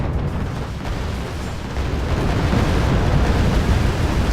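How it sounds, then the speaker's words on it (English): Bombs exploding around old cargo trucks: a dense, continuous roar of blasts and rumbling booms, loud and sustained, growing heavier partway through, with no voices. "Dropping some bombs."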